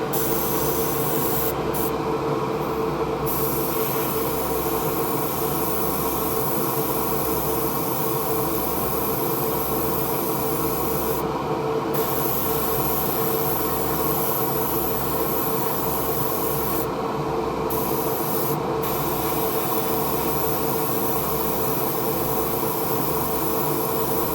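Window tint sprayed as a third coat onto a scale model's windows: a long, steady hiss of spray close by, broken by a few short pauses.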